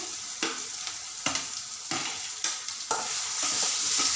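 Onion and tomato frying in a pan for an egg keema dish, a steady sizzle broken by several sharp scraping stirs at irregular intervals, close and moderately loud with no talking.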